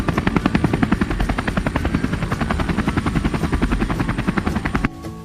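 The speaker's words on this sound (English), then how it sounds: "Sky, hop into your helicopter." A toy helicopter in a colorful children's play scene flies with a loud, steady rapid chopping buzz of rotor pulses that runs for about five seconds, then cuts off abruptly near the end.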